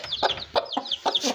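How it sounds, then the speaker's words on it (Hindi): Chickens and chicks cluck close by in a rapid run of about five short, bright clucks over little more than a second, with no voices. "चूचो की यार कुछ ज़्यादा ही आवाज़ आ रही"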